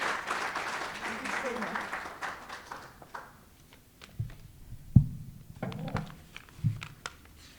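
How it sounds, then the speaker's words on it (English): Applause welcomes a Deputy Minister at a South African democracy colloquium: a dense, steady wash of clapping for about three seconds fades out, followed by scattered isolated claps and faint talk in the room. "let us welcome the Deputy Minister with a warm round of applause"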